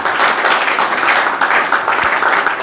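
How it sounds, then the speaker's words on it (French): Loud, steady applause from a congregation at a worship gathering, dense continuous clapping close by throughout. "Applaudissons pour le Seigneur."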